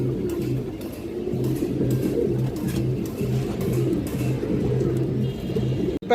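Giribaz pigeons, silver females of a high-flying breed, coo in a steady repeating rhythm close by, a low throaty pulsing that continues throughout over faint background noise.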